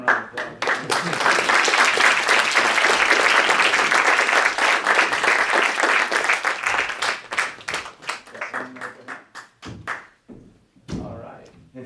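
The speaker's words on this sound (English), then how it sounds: "let's give them a round of applause" An audience gives a loud round of applause for students before a school performance of Julius Caesar, a dense burst of clapping that thins into scattered claps and fades near the end.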